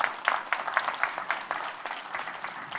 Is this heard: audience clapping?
yes